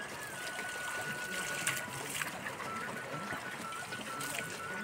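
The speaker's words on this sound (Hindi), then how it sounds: "प्रकृति से निकलता हुआ पानी का स्रोत यहीं पर से भरेंगे पानी" Water from a natural spring flows and trickles quietly at a temple site during Mahashivratri, a faint steady splashing with soft background sounds throughout.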